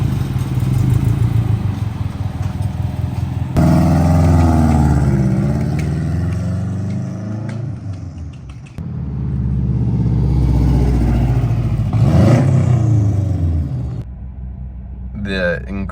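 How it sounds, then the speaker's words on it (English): Loud, rumbling exhaust from a 2004 Subaru Forester XT with the rear oxygen sensor bung left open, a steady throaty drone under ongoing talk, swelling briefly around mid-clip and dropping off near the end. "The incredibly loud exhaust is because we have a bung for rear 2 sensor that actually isn't in, so you can just hear the exhaust coming out"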